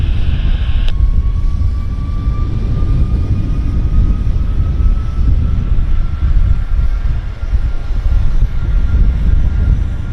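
An Air Canada airliner takes off from runway 26 left at Vancouver Airport, a loud, steady engine roar lasting throughout with a faint rising whine.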